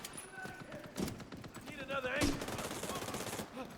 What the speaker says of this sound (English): I've been loving this pistol.